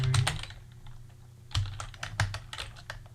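Keys clatter on a computer keyboard in quick irregular bursts, with a couple of heavier thumps like the spacebar or enter key, close and alone with no talk.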